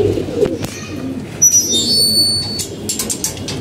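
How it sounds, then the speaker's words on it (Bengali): Pigeons coo inside a crowded loft, low soft calls under a rumbling background with a few knocks and some high, thin whistling tones midway. "ভিতরে তো অনেকগুলো কবুতর"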